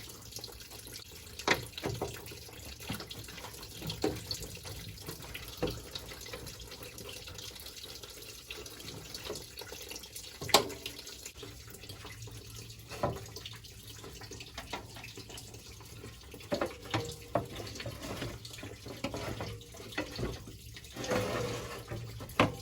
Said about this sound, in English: once the radiator is done draining